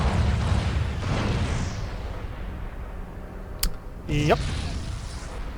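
Starship weapons fire in a Star Fleet Command space combat game, a dense rumbling barrage of booming blasts with a sharp burst near the end, a short spoken reply heard briefly over it.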